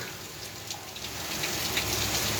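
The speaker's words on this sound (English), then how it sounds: "this is some strange weather we got here, you know. I mean, hard rain" Heavy rain pours down steadily in an outdoor setting, a dense, continuous hiss of drops striking surfaces close by with no gaps or pauses.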